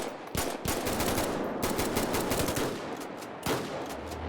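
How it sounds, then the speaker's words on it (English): Gunfire from a GTA 5 game with the C-Nord sound mod: loud rapid automatic bursts that crack sharply and echo, with a short pause before another burst near the end. "Here are some of the guns with their new sounds."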